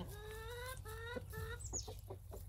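Chicken clucking close by in a compost yard, a few short rhythmic calls followed by scattered pecking and scratching sounds over a steady low background hum.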